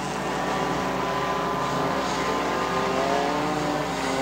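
Race cars run on the Rome Speedway in a Street Stinger feature, a continuous droning engine roar with shifting pitch as cars pass at a distance, filling the whole stretch.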